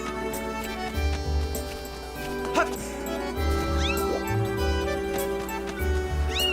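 A cat in The Legend of Zelda: Skyward Sword meows a few times over looping game music with low thumping effects, no talking.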